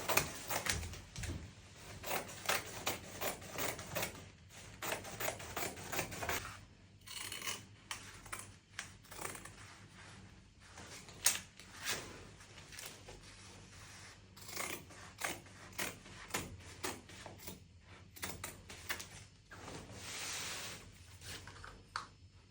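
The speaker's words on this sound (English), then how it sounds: "I'm going to get my scissors and I'm going to start cutting out all the lines." Repeated crisp snips of scissors cutting through fabric, coming in quick bursts with short pauses, close by and without talk.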